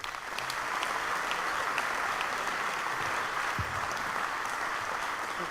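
A high school winter concert audience gives steady, dense applause for the student concert band, a continuous wash of clapping that holds evenly from start to finish with no one speaking over it.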